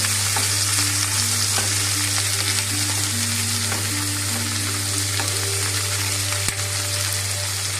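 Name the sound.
chopped onion and green chillies being stirred and fried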